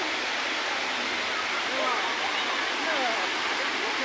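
Rishikesh waterfall roaring as a steady, dense wash of falling water that fills the clip evenly from start to finish, close and continuous.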